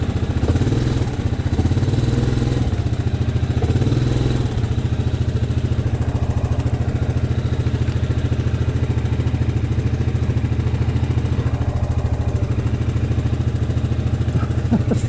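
A Yamaha Grizzly 700 SE ATV engine on a trail by the Madawaska River, a loud, steady, close rumbling drone with slight swells of throttle and continuous mechanical clatter throughout.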